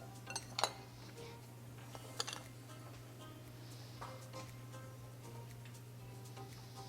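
A utensil stirs a batter of five eggs, almond flour and seasoning in a bowl, giving a few faint clinks and scrapes against the bowl over a steady low background hum.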